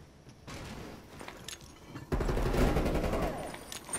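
A hostile sentry turret in a first-person shooter video game fires bursts of rapid gunfire, light at first and then a dense, loud volley near the end.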